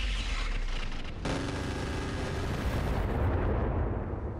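A mag pulse weapon fires in a turn-based sci-fi combat video game, a dense, loud burst of booming, crackling blasts that rumbles on with low rolling impacts and no talk.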